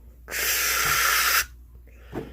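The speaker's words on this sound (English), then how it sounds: "So if I was spraying this tub" A plastic spray bottle gives one long, loud misting burst of about a second as it is sprayed into a snake tub lined with paper towel to treat mites, followed by a short faint after-sound.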